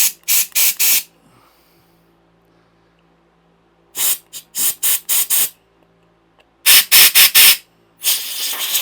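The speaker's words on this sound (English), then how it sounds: "you can back it up with the old air compressor, just to make sure you are definitely getting all the bits out" Compressed air from an air compressor nozzle blasts in short bursts, three to five sharp hissing jets per group, with about three seconds of quiet between groups; no talk, loud and close.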